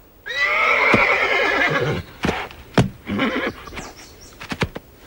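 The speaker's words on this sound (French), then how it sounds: "un sacré cheval, Météore" Météore, a spirited, untamed stable horse, lets out a loud, long, close whinny, followed by snorts and a few hoof knocks in the stable.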